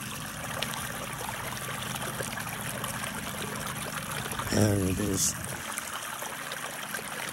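Stream water trickles and burbles over a small obstruction in a soft, continuous flow, with someone speaking briefly partway through.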